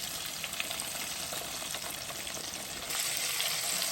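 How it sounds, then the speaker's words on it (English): Stuffed mushrooms with smoked sausage fry in a pan, a steady close sizzle of hot grease that grows slightly louder near the end, with no talking. "I'm gonna just sit them back in now and let them fry the bottom part a little bit."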